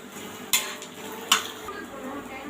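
Rice and egg being stirred in a pan, with two sharp scrapes of a utensil against the metal over a soft background sizzle.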